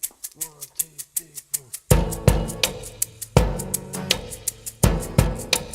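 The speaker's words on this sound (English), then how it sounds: "The drums sound like this." Unprocessed drum stem from a song: a steady groove of crisp hi-hat ticks over kick and snare, first sparse and quiet, then fuller and louder with crashes, heard alone.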